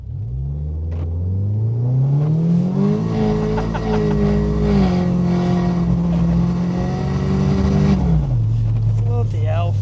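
A Merkur XR4Ti fitted with a 2.4 Honda engine accelerates hard, its loud close engine note climbing steadily through the revs, holding high, then dropping off as the throttle lifts near the end.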